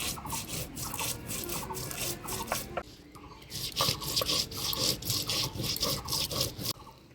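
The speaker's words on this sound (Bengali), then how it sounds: "আজকে কাঁঠাল চিংড়িতে দেওয়ার জন্য আদা, জিরা, ধইনা, শুকনো লঙ্কা বেটে নিব।" Ginger, cumin, coriander and dried chili being ground by hand for a jackfruit and prawn dish: close, rhythmic rasping strokes back and forth, with a short pause midway before the scraping resumes.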